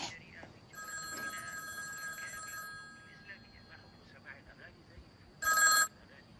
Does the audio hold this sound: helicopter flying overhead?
no